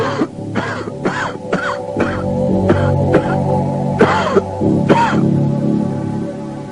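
A series of harsh, repeated smoker's coughs and throat-clearing bursts, about eight spasms spaced unevenly over several seconds, loud and close over a low background hum.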